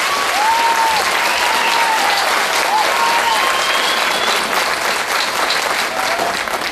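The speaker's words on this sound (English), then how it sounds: "Please join me in a round of applause for their meritorious accomplishments." Graduation ceremony audience applauding graduates, loud sustained clapping from a large crowd that stays even throughout, with occasional whistles and cheers over it.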